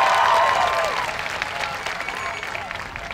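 Dense, loud applause fills a high school graduation ceremony, steady at first and then easing slightly, with some voices mixed into the clapping.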